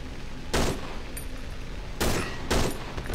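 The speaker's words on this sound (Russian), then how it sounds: "я выстрелил" Three loud, sharp gunshots ring out at irregular intervals in the horror video game Cry of Fear, over a dull, steady background hum.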